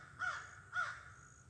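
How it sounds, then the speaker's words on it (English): A crow gives two harsh caws about half a second apart, faint and distant in quiet woods. "First bird I've heard all day. Mr. Crow."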